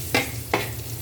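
Garlic and onion fry in a pan, two sharp bursts of sizzling as ingredients hit the hot oil over a steady hiss and low hum, brief and close.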